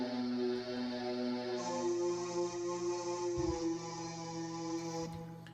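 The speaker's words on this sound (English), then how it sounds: "This one right here, DigiChoir pad, and this is what it sounds like." A DigiChoir pad from the Purity plugin holds a soft, sustained chord of airy, choir-like tones, with a note shifting partway through and the sound fading at the end, quiet and alone.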